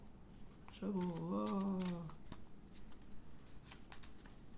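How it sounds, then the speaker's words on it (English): Tarot cards shuffled by hand, soft close riffles and patters that continue under a brief voiced sound, quiet overall. "So I'm going to go ahead and shuffle."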